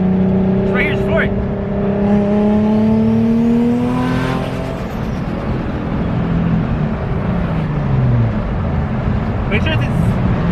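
A 600 hp turbocharged Nissan 350z accelerating at full throttle, loud engine note sweeping upward through the revs before easing back, with voices talking over it inside the car.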